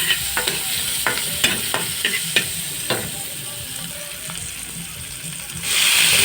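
Squid adobo frying in a pan: a loud, constant sizzle with scattered clicks and scrapes of stirring, heard close, with a brief surge of hiss near the end.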